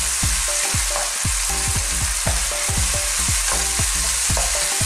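Chicken, tomato and green beans fry in a pan for a Filipino sitaw manok dish, with a steady sizzle and a rhythmic scrape of stirring about twice a second, close and loud throughout.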